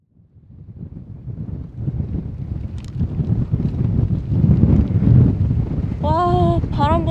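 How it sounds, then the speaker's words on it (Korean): Strong wind blows at the seaside during squid egging fishing, a gusty, rumbling roar that builds and stays loud, with a few faint, high tonal chirps near the end. "와우, 바람 분다."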